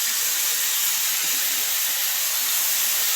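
Tomatoes dropped into a hot pan while cooking local wild boar, giving a steady, even sizzle and hiss that continues without a break and with no talking.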